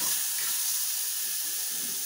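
Chopped onion with garlic sizzling in a hot pan, a steady bright hiss that holds evenly for the whole stretch, close and without talk.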